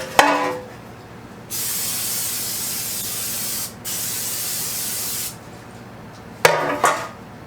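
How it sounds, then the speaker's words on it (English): Cooking spray hisses onto a baking pan for a dessert, in two long steady bursts of about two seconds each, close and fairly loud, with a brief clatter at the start and end. "You're going to make sure you don't breathe when you're spraying your pan."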